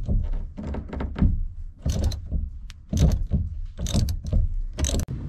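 A ratchet works loose the rear shock absorber mounting bolts on a Pointer car, giving repeated clicking and clunking mechanical bursts close by, with pauses between strokes and no speech.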